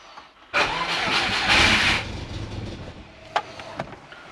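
A turbocharged Subaru engine fitted with a homemade exhaust manifold cranks and catches with a sudden loud burst, revs briefly, then settles into a rough idle with a few sharp pops.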